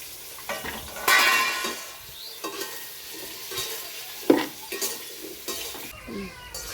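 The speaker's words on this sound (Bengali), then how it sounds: "তেল গরম হয়ে গেছে, এবার আলুগুলো ভেজে নেব।" Potatoes fry in hot oil with a steady sizzle, broken by loud scrapes and clinks of a utensil stirring against the pan.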